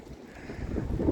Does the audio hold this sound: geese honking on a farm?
no